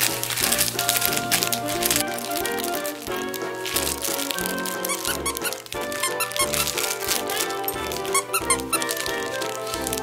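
Repeated high squeaks from a squeezed toy over a busy, music-like background, fairly loud and continuous.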